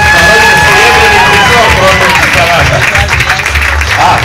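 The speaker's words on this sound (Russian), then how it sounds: "Аплодисменты" Loud crowd clapping fills the hall at a Mafia championship prize-giving, with scattered cheers and an announcer's voice over the steady applause before it begins to thin slightly.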